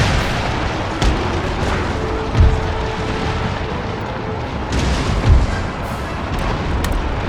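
Cannon fire in the PC strategy game Empire: Total War, heard as repeated deep booming artillery shots over a continuous roar of battlefield noise, with a couple of louder thumps standing out.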